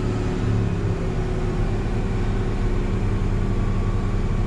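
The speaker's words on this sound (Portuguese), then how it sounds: "Levantando o giro no trem." A vehicle engine revving and holding high speed while stuck on a muddy farm track hauling watermelons, a steady loud droning rumble with no talk.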